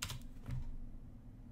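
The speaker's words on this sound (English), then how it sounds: "Then I'm going to type in another command, pacman -s --needed." Quick keystrokes on a computer keyboard entering a command, a short cluster of clicks up front and another brief burst near half a second, then quiet room tone.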